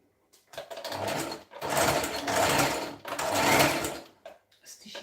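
A sewing machine stitches a seam about half an inch in, running in three steady whirring bursts of about a second each with brief pauses between, then a short final start.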